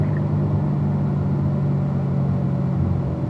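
A Camaro drives on a race track, its engine a steady low rumble and drone as it accelerates gently through a kink, close and continuous with no speech.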